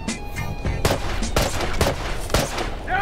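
Rapid gunfire in a BOW shooter match: several sharp, loud shots in quick bursts with short gaps, over a steady background of game ambience.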